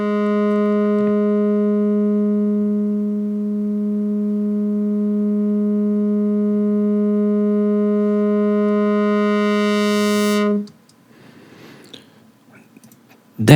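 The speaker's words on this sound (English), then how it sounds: "And then the low pass filter comes in." A buzzy synth lead from a stock preset with light reverb holds one bright, steady note for about ten seconds, then stops abruptly, leaving faint scattered noises.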